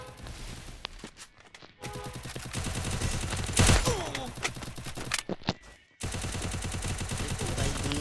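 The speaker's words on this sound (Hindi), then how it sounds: "अब हम फिर दोनों को मारने वाले हैं अपने UMP से" UMP submachine gun fire in a shooting video game, dense bursts of rapid shots running through most of the stretch, loud and close, broken by a couple of brief pauses.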